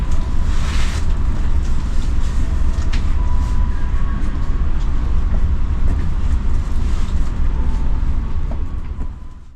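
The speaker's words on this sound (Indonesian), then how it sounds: "8 menit kemudian kereta api Tawang Jaya sudah diberangkatkan dari stasiun Cikarang." A Tawang Jaya passenger train rolls along after leaving Cikarang station, heard from inside as a loud, constant low rumble of wheels and carriage with occasional rattles and clanks.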